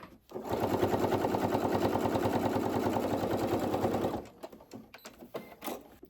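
A sewing machine fitted with a 90/14 needle stitches fabric down a seam in a fast, steady run of rapid needle strokes for about four seconds, then stops, leaving faint handling clicks and rustles.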